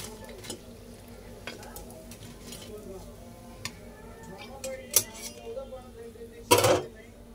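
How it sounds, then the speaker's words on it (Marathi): Egg pakoras fry in hot oil with a soft, steady sizzle, broken by occasional clinks and scrapes of a utensil against the pan and one louder clatter near the end. "हे अशा पद्धतीने असे तळून घ्यायचे छान"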